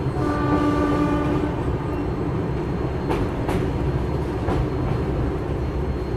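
An Indian Railways train's horn sounds a long steady blast at departure over the loud rumble of the train, followed by clattering rail noise and faint clanks.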